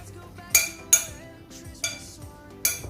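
A spoon clinks against a metal pan or bowl while garam masala and spices are mixed in for a kingfish curry, giving four sharp metallic taps spaced irregularly over quiet background.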